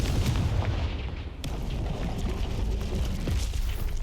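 Confringo fire spell in Hogwarts Legacy going off as a loud, close, fiery blast with rumbling low booms and crackling that carry on steadily through the whole stretch.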